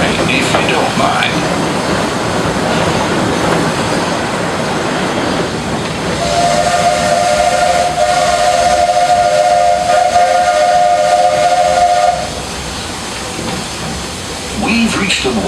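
A Walt Disney World Railroad steam train at Magic Kingdom lets off a strong steam hiss, and a long, loud multi-tone steam whistle blows for several seconds before fading back into hissing.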